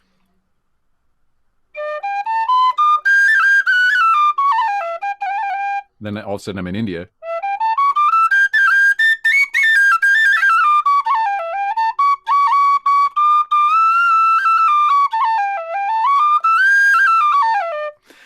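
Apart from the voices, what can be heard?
tin whistle playing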